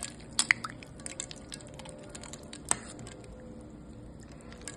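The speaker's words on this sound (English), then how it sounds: "I'm gonna put it into cold ice water to set the color." Cooked perilla leaves, Korean flat chives and spinach are dropped into a bowl of cold ice water, giving a few sharp splashes and drips at the start and one more splash later over a quiet kitchen background.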